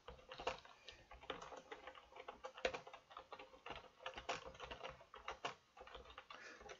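Rapid clicking of computer keyboard keys, a steady run of light, close taps in irregular bursts with no talking.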